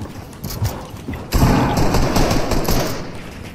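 Gunfire in the Fortnite video game, a loud, dense burst of rapid shots that jumps up midway and keeps rattling steadily, heard up close with no talking.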